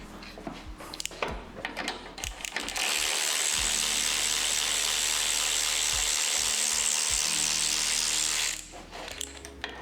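Power tool, likely an impact driver or ratchet, undoing bolts on a Datsun oil cooler in a garage; a steady loud whirring run lasts several seconds after some clanking, then stops.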